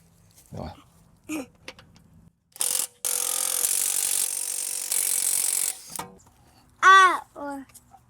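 Wheel nuts coming off a Mercedes ML350 with a 17 mm socket and ratchet: a few short clicks, then a long loud burst of an impact gun running close by, followed by brief rattling clicks.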